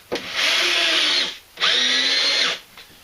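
A Black & Decker Matrix cordless drill whirs in two bursts of about a second each, high-pitched and close, with a short pause between them.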